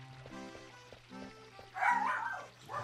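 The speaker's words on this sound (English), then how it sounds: "Apologies for the barking dogs." Dogs bark in the room during Final Fantasy IX gameplay, with a few short, faint barks in a loose rhythm beneath game music and sound effects, followed by a louder burst.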